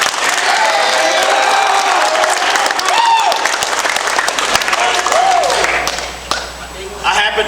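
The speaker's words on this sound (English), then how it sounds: "Let's clap your hands for Coach Andy." Loud applause and cheering from a high school varsity football team audience for their coach, dense clapping filling most of the stretch with whoops, and a voice speaking at the end.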